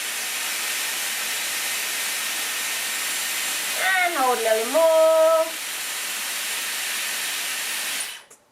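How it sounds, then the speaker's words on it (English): Dyson Airwrap hair styler on its cold blast setting, a steady, close, loud airy hiss running throughout and cutting off at the end. A person speaks briefly over it in the middle. "And then I'm going to push this up and cold blast."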